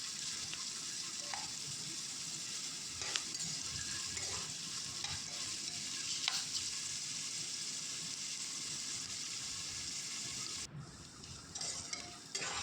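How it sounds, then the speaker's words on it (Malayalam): Sliced big onions sauté in oil with whole spices, a soft continuous sizzle broken by intermittent stirring clatters from a spoon against the pan, heard close and quiet, with no speech. "ഇനി അതിലേക്ക് രണ്ട് ബിഗ് ഒനിയൻ സ്ലൈസ് ചെയ്ത് ഇട്ട് കൊടുക്കാം ഇനി അത് വഴറ്റിയെടുക്കാം"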